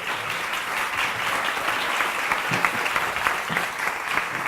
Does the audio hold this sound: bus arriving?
no